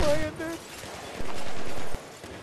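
Gunfire from the PS3 game Conquest Domination on the Ziba Tower map sounds as a few sharp shots and short bursts, with a voice talking over the action.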